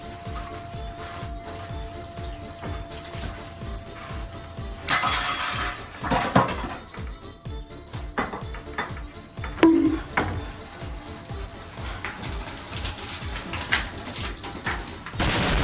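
Water runs and drips through a kitchen strainer, with light metallic clinks of utensils close by and no speech.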